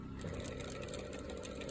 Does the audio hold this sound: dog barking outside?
no